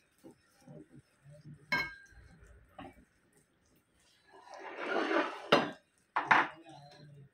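Spices and oil for a fish-fry marinade are stirred in a bowl, scattered clinks of a spoon against the dish followed by a short burst of scraping and two sharper knocks, close and moderately loud.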